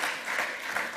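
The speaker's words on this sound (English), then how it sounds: "So give him a round of applause for." Audience applause fills the hall at a lightning talk session, a steady broadband clapping that holds for the full second with slight swells, loud and close.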